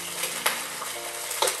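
Flathead fish pieces sizzle steadily in hot oil in a pan while being stir fried, with a constant close crackle and a couple of brief scraping stirs.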